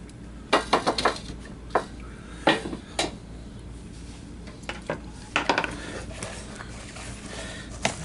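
Rocks and pebbles of gold paydirt knock and rattle in a large gold pan, giving a string of sharp, irregular clacks and scrapes up close over a quiet background.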